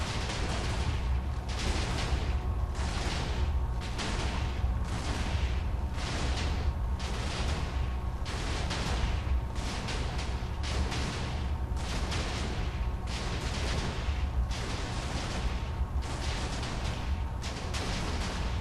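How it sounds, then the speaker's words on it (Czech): A long run of heavy booming blasts and rumbling crashes in Minecraft, dense and continuous, like a big explosion with debris echoing throughout. "Já jsem říkal, že to bude velký výbuch."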